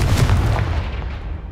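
A Confringo fire spell blasts a blocked stairwell in the Hogwarts Legacy video game, landing as one loud, deep booming burst that rumbles and slowly fades out over about a second and a half.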